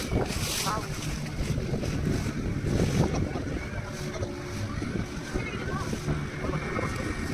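Sea waves and strong current wash around a boat at a river mouth on a Pondicherry ride, a constant loud rush of surf and wind with voices underneath.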